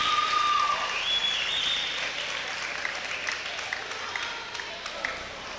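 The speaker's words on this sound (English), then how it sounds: "The whole crowd showing their appreciation for this match." Sustained applause from a crowd at a high school district wrestling finals, broad and steady clapping that is loud at first and gradually eases while continuing throughout.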